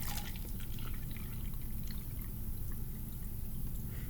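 Water poured from a jug into a McDonald's cup at a lab table, a steady close splashing trickle that runs throughout with no talking over it.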